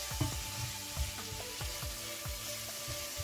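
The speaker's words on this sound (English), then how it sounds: "Give it a stir with everything else." Scotch bonnet pepper and vegetables are stirred in a hot pot for ackee and saltfish, with a soft sizzle under repeated scraping and knocking of the spoon against the pot.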